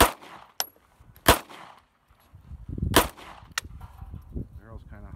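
Pistol shots from a Taurus PT92 firing 124 grain ammunition ring out as sharp, loud single cracks with clanging echoes, spaced irregularly across a few seconds, with quieter handling noise between.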